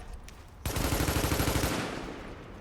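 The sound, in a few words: ACRE rifle firing in a video game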